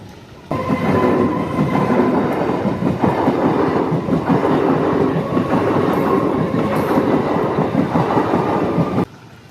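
A train rolls past a closed level crossing on a village railway line, a loud, steady rumble and rattle of wagons that starts abruptly and holds close by for about nine seconds before cutting off.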